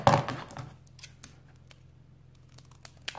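Close scissors make a sharp snip, then a few lighter snips and paper rustles as paper pieces are trimmed to size for a credit card pocket folder.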